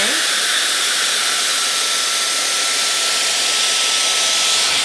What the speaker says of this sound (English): You can even like dry all your hair with this